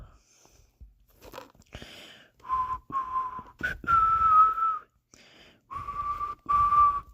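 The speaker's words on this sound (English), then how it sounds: "I can't whistle very well." A person whistles a string of short, wavering single notes with gaps between them, close and fairly clear, alongside a few crunchy, crinkly noises.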